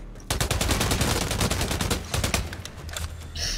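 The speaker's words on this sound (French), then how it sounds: "Alors ce que j'ai là c'est l'AK470, dit aussi AK47. Alors, je vais vous montrer un peu de quoi elle est capable." AK-47 assault rifle fire in the shooter game Blacklight: a rapid, loud automatic burst of closely spaced shots, briefly pausing and resuming in shorter volleys near the end.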